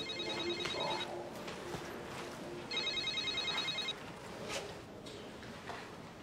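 A telephone rings in two separate bursts of electronic trilling, each roughly a second long, over a low room background with no talk.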